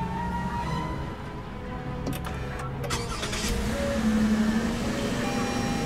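A Toyota Avalon's 3.5-liter V6 starts by push button and settles into a smooth, steady idle, a low continuous hum with faint whirring from inside the cabin.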